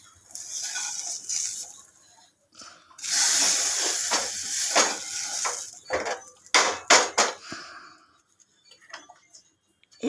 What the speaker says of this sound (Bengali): পেঁয়াজটা ঢেলে নিলাম।